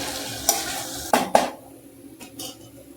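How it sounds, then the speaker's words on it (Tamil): Taro, eggplant and radish being stirred in a pan for homemade sambar, with a spoon scraping and knocking against the metal three or four times over a soft sizzle, close and moderately loud. "இப்போ அதெல்லாம் சேர்த்து மறுபடியும் அதே மாதிரி கிளறிடுங்க"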